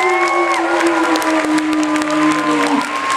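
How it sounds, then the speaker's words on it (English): Audience applause breaks out at a 2011 anime convention talent show, a crowd clapping loudly and continuously while a sustained electronic tone hums steadily beneath the claps. "a proper round of applause, please."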